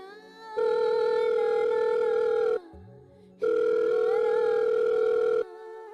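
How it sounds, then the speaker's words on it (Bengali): Outgoing telephone call ringback tone, two long steady electronic ring bursts of about two seconds each separated by a short quiet gap, clear and close with no voices. "তাই আমি উর্মি নাম্বারে ফোন দিলাম"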